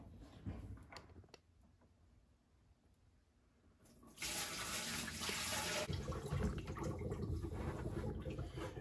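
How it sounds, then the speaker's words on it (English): Water is poured into the front live well of a bass boat fitted with a Flow-Rite live well system: a quiet start, then a sudden loud, steady rushing gush that carries on to the end. "So I'm gonna pour the water in the front live well"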